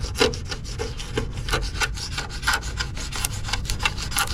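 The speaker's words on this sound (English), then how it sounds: "do some final sanding" Final hand sanding on the body of a patina Chevy convertible, steady raspy scraping strokes close by, with irregular rubbing bursts and no talking.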